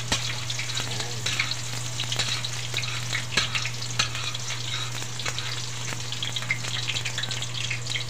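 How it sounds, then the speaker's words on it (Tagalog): Garlic and onion sautéing in a pan, a steady, close sizzle with occasional stirring scrapes and clicks, a low constant hum beneath, no talking. "So, bawang, tapos sibuyas. Gisa-gisa, halo-halo."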